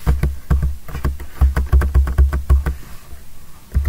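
Computer keyboard keys pressed in a quick, uneven run of close, crisp taps, heard alone with no talking.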